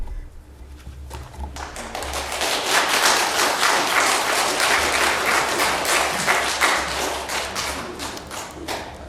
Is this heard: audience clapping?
yes